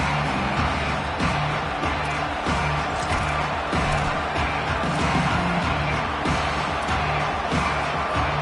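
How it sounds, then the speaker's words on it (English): A large crowd at an American football stadium roars and cheers continuously during a Rockets versus Lions game, a dense, sustained wash of distant voices with no single shout standing out. "They challenge this crowd to bring the energy, and I'd say they're doing that."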